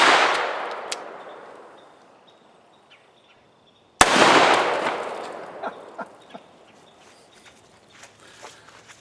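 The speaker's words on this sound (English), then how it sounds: "let's see if we can make some water fly with Cimarron's 44 Special Model P" Two sharp, loud gunshots from a Cimarron Model P .44 Special revolver fired one-handed at 2-liter water jugs about 15 yards downrange, each blast followed by a long decaying echo, outdoors with no talking.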